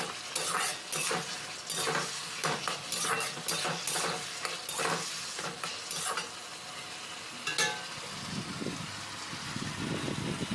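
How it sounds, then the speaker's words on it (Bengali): Potatoes and vegetables sautéing with spices as a spoon stirs and scrapes the pan in repeated bursts over a low sizzle, ending in quieter frying. "আলুটা দিয়ে মশলাটা একসঙ্গে আলুর সঙ্গে কষতে হবে তো এইভাবে সবজিটা এখান থেকে কষা শুরু হলো"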